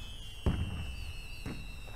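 Fireworks bursting in the Skylanders Giants video game, two soft booming pops about a second apart over a steady high electronic tone.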